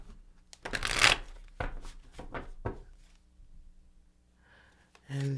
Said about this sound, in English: So do a little shuffle